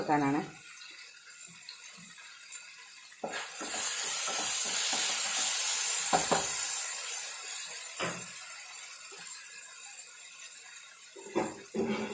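Mustard seeds sizzle and crackle in hot oil in a home kitchen, a loud steady hiss that rises suddenly and lasts several seconds, with scattered pops and a voice speaking briefly around it.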